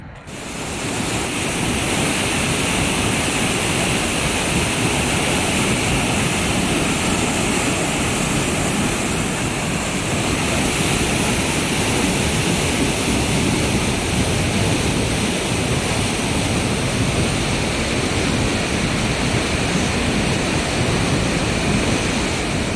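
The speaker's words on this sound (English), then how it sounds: "Heading to Roaring River Falls." Roaring River Falls pours in a constant, loud, broadband roar of rushing water along a short hiking trail, steady from start to finish with no voices.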